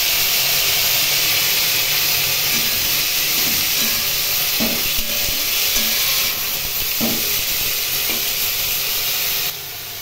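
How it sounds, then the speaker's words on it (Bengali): Potato and bitter gourd pieces dropped into hot oil tempered with nigella and fenugreek seeds hiss and sizzle steadily, with a few soft stirring knocks, close and fairly loud. "ফোড়ন ভাজা হয়ে গেছে, এর মধ্যে আলু এবং উচ্ছে দিয়ে দিলাম।"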